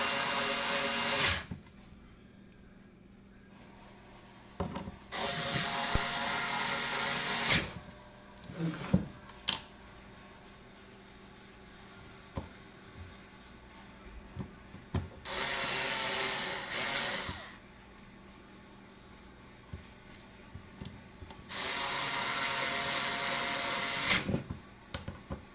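A small power driver sets 1/4 inch 440 screws that anchor clasp hooks into a motor housing, four loud high-pitched whirring bursts of a few seconds each, separated by quieter handling clicks and taps.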